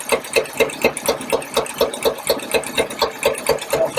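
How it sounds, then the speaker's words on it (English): A 1953 Packard engine idles with a valve lifter spinning as a feeler gauge is slipped in during a valve adjustment, giving a steady, close, rhythmic mechanical clatter of quick, even ticks with no talking. "You'll notice as I put the fueler gauge in, the lifter starts spinning."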